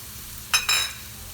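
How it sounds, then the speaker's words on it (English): Green chilies and small tomatoes sautéing in a pan for a stuffed mushroom filling: two short, bright sizzling bursts with a scrape of stirring, close by against a faint quiet background. "sauté this a bit."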